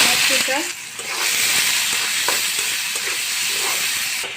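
Onions fry in hot oil with a loud, dense, continuous sizzle close by, steady throughout with faint scraping underneath.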